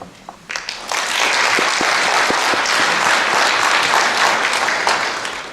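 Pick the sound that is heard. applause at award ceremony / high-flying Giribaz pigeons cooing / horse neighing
applause at award ceremony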